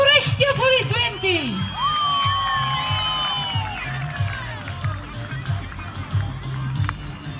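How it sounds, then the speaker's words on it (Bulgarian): A crowd at a Todorov Day horse beauty contest in Kalugerovo village cheers and whoops loudly throughout, with shouting voices and festive noise all around. "Този кон заслужава горещи аплодисменти!"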